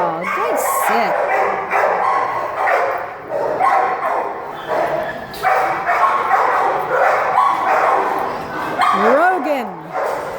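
Dogs bark and yip over one another in the kennels of a county animal shelter, loud, close and nearly continuous, with whimpers and a brief high whine near the end.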